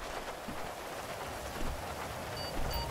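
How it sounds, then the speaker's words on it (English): Rain falling outdoors in the game GTA 5, a steady soft hiss of drops with faint low rumble underneath, no talking. "it's raining out here"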